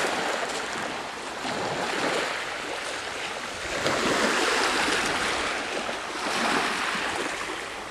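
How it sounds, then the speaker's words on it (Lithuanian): Sea waves wash along the Croatian coast at Makarska on an overcast day, a loud continuous rushing surge with swells, mixed with wind buffeting the microphone, no talking. "Čia prie jūros."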